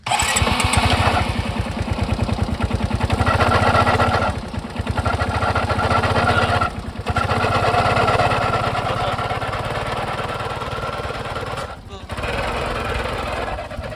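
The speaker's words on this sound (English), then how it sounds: "So as you guys have heard what type of noise the bike is making." A Suzuki Access scooter with worn clutch rollers runs up close, giving a loud, rapid rattling clatter with a few short dips where the throttle eases off.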